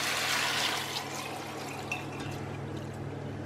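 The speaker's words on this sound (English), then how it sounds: "now we'll pour over water to cover." Water pours steadily into a saucepan over sealed chicken drumsticks for soup, a continuous close splashing rush that gradually softens as the pan fills.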